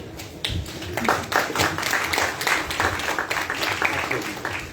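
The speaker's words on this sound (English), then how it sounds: "There's no harm in clapping for." Attendees at a bar vocational course lecture give a round of applause, many hands clapping in an uneven, moderately loud burst that continues through the moment with faint murmuring underneath.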